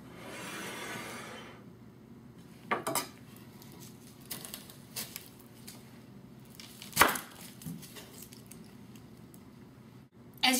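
A knife cuts open a California sweet onion, giving a few crisp slicing crunches and clicks against a board. They sound close but fairly quiet over a soft room hum, with a sharper snap near the end.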